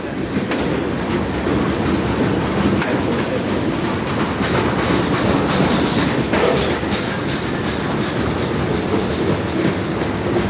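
A Q453 freight train rolls past near Miami, loud and steady throughout, with continuous rumbling wheel noise and clickety-clack of rail cars, no voices.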